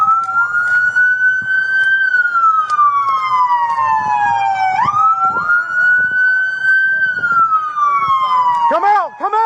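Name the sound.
police siren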